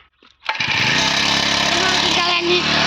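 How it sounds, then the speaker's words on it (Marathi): A newly bought petrol piston crop sprayer for tomato and cucumber fields roars to life after a brief quiet moment, then runs loud and steady with a buzzing, even drone. "मनोहर गुंजाळ्यांनी मनोहर मशीन चालू केलेले आहे"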